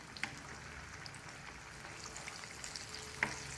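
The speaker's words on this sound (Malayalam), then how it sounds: "നല്ല ചോപ്പ് ആക്കി പൊരിച്ചെടുക്കണത്. അങ്ങനെ എല്ലാ പഴങ്ങളും ഇങ്ങനെ പൊരിച്ചെടുക്കുക." Ripe plantain pieces frying in hot oil, a soft continuous sizzle and crackle heard close up, with a couple of sharper pops standing out.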